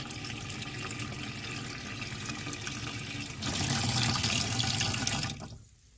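Water runs steadily from an RV tap fitted with a filter, unfiltered flow first, then brightening and strengthening partway through before being shut off near the end.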